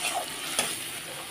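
Pointed gourd (potol) fries in a pan with a steady, close sizzle and a brief scrape of stirring partway through; no talking.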